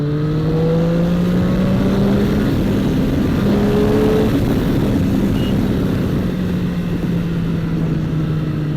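A Triumph Street Triple 765 motorcycle engine pulls hard in fourth gear, a loud, steady, rising drone of engine tones with constant wind roar, heard up close throughout.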